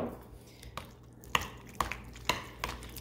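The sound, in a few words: mixing clam dip with clam juice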